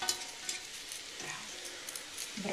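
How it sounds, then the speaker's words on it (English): Onions sizzle in a pan as a spoon stirs them, a soft steady frying hiss with light scraping taps, faint and close with no talking. "Now she's adding the onions to the pan and stirring it until the onions are softened"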